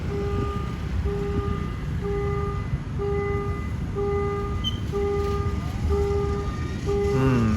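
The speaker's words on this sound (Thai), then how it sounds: "ได้เวลาปล่อยขบวนรถเร็วที่ 167 ออกจากสถานี สุราษฎร์ธานีแล้วครับ" Express train 167 departs Surat Thani railway station: a steady rail rumble runs beneath a repeating two-tone electronic warning chime pulsing about once a second, loud and nearby.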